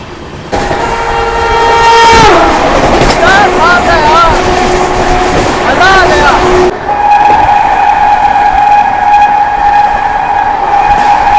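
An Amrit Bharat Express passenger train on the Delhi–Gaya run, loud and close: a long horn blast with shifting tones over rumbling, clattering wheels, then steady rolling rail noise with a sustained tonal whine.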